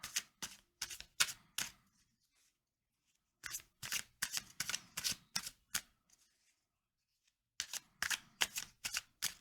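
Crisp, rapid riffling of a deck of tarot cards in three separate bursts, each a run of sharp snaps with quiet pauses between them.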